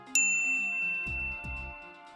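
A bright notification bell chimes once as a sound effect and rings out with a long shimmering decay, followed by two soft low thuds beneath the fading tone, with no voices.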